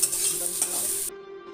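Vegetables including carrot and beetroot stir-fried for restaurant-style veg chowmein, a steady loud sizzle with stirring scrapes that cuts off abruptly near the end, leaving a quieter hum.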